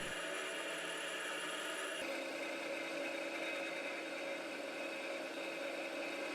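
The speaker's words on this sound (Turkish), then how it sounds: "İşaretli alana oymak için matkapla muhtelif delikler açıyorum." A steady mechanical whir of a power drill boring holes while making a puukko knife, running continuously, loud and close, with a slight shift in pitch partway through and no voices.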